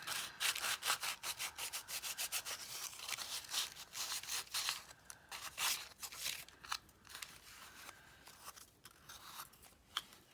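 A wooden journal tag is sanded by hand with 120-grit sandpaper, giving close, quiet, rhythmic rasping strokes in quick repeated passes that later become slower and more irregular, with no talking.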